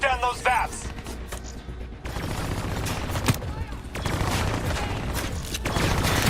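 Dense bursts of rapid gunfire in Call of Duty: Black Ops 3 as drones are shot down, loud and sustained with crashing impacts over several seconds, with a voice talking over the shooting.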